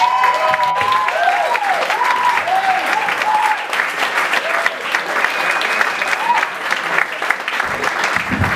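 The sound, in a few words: audience applause and cheering for a comedian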